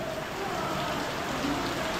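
Heavy rain pounds on a house roof above a ceiling, a steady, dense hiss with no let-up throughout.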